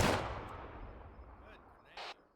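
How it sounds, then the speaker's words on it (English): Gunfire aimed at an enemy vehicle in the video game Arma 3: a loud, near burst opening the moment, decaying into rumbling echo, with a brief sharper report near the end. "Affirm, open fire on that vehicle."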